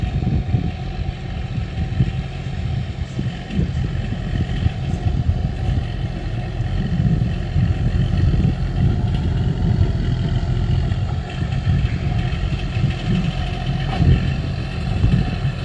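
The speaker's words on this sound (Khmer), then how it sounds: "ជាមួយនឹងត្រាក់ទ័រ John Deere" A John Deere tractor leveling soil, its engine running in a steady, rough low rumble that holds close and even throughout.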